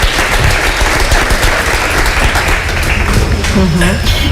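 Audience applause at a talk with author James Ellroy, a loud, continuous crowd clapping with cheering voices mixed in throughout.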